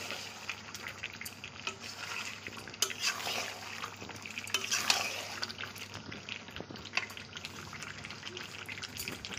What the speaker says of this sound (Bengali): দিয়ে একটু নেড়ে দেবো।